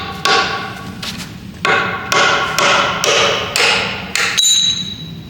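A part on an LS engine and Dodge 8HP70 transmission swap hammered out from its backside, with about seven loud, close metallic blows at a steady spaced rhythm, each ringing briefly before the next strike.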